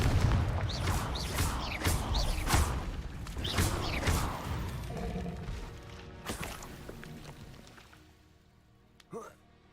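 Confringo blasting spells in Hogwarts Legacy go off as a run of sharp bursts and whooshing booms over the first few seconds, then thin out, heard over a talking voice.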